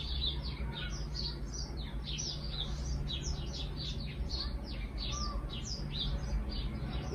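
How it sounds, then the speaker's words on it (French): Many small birds chirp and sing in rapid, overlapping bursts outdoors near a loggia under a clear sky, steady and moderately close against a low ambient hum. "le beau ciel bleu avec les oiseaux qui chantent"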